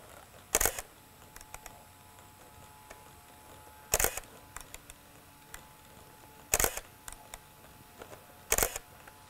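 A camera shutter fires four separate times at increasing shutter speeds, each a crisp, close mechanical clack with a short following click, spaced about two to three seconds apart over quiet room noise.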